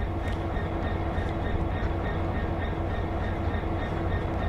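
A train rolls along in the Train Sim World game's Aggregate Industries scenario on Xbox One, giving a steady, loud rumble with faint rhythmic clatter and a constant low drone throughout.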